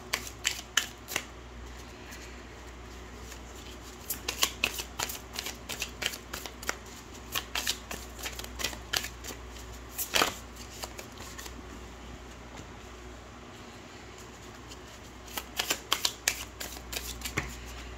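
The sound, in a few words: shuffling gold tarot cards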